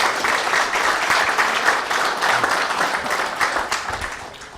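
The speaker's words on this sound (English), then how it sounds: "So how about a nice round of applause for Scott and his staff." Applause from the audience at a high school bowling coaches clinic: a dense burst of many hands clapping together that holds steady for several seconds, then gradually tapers off.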